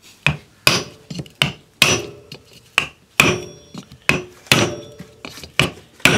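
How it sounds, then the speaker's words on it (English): A hammer drives the steel-laminated, copper-wound centre out of an old electric motor with about a dozen sharp metallic blows at a steady, unhurried rhythm, each ringing briefly, close and loud with no talk. "we need to drift that centre out, which we're going to do with the loving caress of a hammer"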